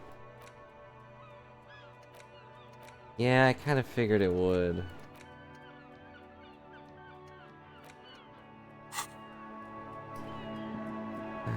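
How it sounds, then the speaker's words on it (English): A bird call from the video game Disco Elysium, the sound of an invisible, incorporeal bird: a loud burst of warbling, swooping calls lasting about two seconds, set against a steady game ambience, with someone speaking briefly afterward. "here's an invisible incorporeal bird"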